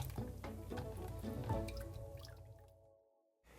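Water draining from strained pomegranate seeds in a kitchen, a close run of drips and trickles that thins out and falls silent near the end.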